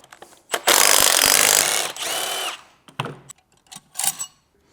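A power tool whirs in bursts while the flywheel comes off a 187k-mile Ferrari-built 530 hp V8 from a Maserati Quattroporte GTS: one long, loud, close run, then several shorter spurts with clanks between them.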